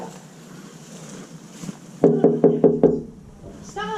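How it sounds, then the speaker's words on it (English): Several sharp knocks on a door in quick succession, loud and close, a police officer rapping during a warrant arrest, following quieter background noise and a brief voice at the end. "You can try knocking again."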